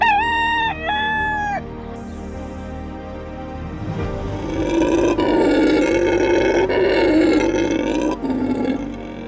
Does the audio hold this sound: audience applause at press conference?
no